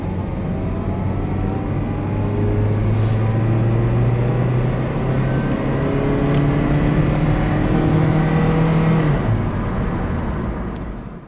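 Car engine idling, then slowly revving up and accelerating through 5,000 RPM during a diagnostic road test, a steady close engine drone rising smoothly in pitch before dropping off at the end.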